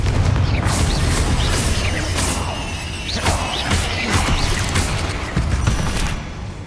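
Confringo fire spell blasts in Hogwarts Legacy, a loud, dense run of booming impacts and whooshing bursts that follow one another over several seconds with no pause.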